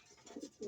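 Pigeons in a fancier's loft give a few soft, low coos close by, in two short swelling bursts over faint background noise.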